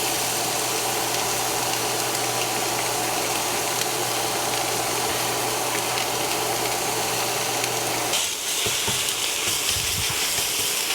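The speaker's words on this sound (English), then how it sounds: "So I'm going to put this into the frying pan." Steady, loud sizzling of mince frying in an old, worn frying pan, continuous throughout with a low hum underneath and a brief shift near the end.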